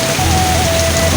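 Hail falls on open ground in sunshine, a dense, steady hiss of pattering impacts that stays close and fairly loud throughout with no pauses.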